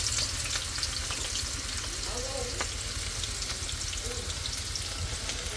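Onion and chili frying in a pan, a loud continuous close sizzle and crackle holding steady throughout with faint stirring, and no talking.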